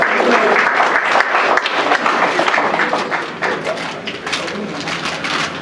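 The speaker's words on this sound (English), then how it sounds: "Give him a round of applause" An audience applauds a veteran at a Veterans Day ceremony with dense, steady clapping close by that tapers off slightly toward the end.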